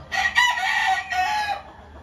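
A single loud, close rooster crow rings out clearly with no one talking, then fades into quiet.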